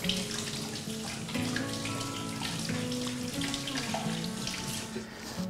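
A kitchen tap runs steadily while hands are washed beneath it, a soft continuous splash and patter of water with small shifts as the flow is disturbed, fairly quiet and close.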